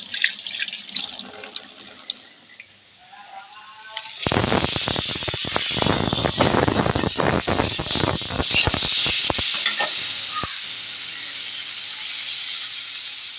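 Chopped tomato hits a hot frying pan, first quiet bubbling, then a sudden loud, hissing sizzle that holds steady with crackling bursts while being stirred, no talking.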